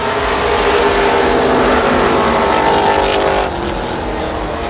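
Outlaw stock cars roar off at the green flag of a 15-lap short-track feature, a loud, dense engine drone from the pack that holds steady, then eases slightly as the cars pull away.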